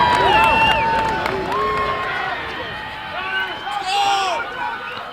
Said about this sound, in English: So the crowd really getting into it here, the home crowd.